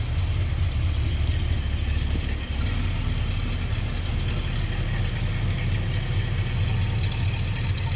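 A 1972 Buick Estate Wagon engine idles steadily, heard from behind the car at the rear, a continuous low rumble with an even exhaust drone and no talking.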